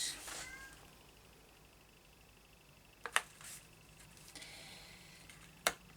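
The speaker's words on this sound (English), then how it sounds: "I have the kitten now looking to come into me" A kitten meows a few times, short faint cries near the start, then sharper bursts later over a quiet room with low background hum.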